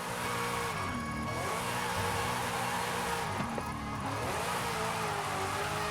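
A small Gordini 8 drift build in Forza Horizon 5 revs hard and continuously, engine pitch dipping and climbing through gear changes and slides, loud and close with no talk.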